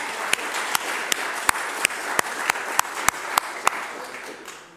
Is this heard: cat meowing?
no